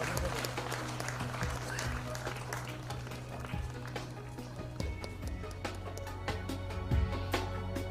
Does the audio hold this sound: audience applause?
yes